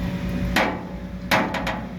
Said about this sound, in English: I'm starting to beat these panels out